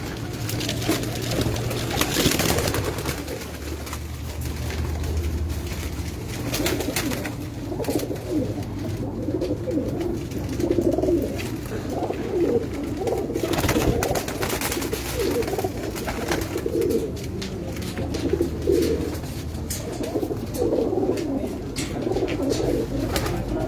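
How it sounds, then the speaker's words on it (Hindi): Paired pigeons on a rooftop coo continuously, overlapping low throaty coos rolling on for over twenty seconds close by, with faint rustling mixed in. "जोड़े वाले कबूतर हैं।"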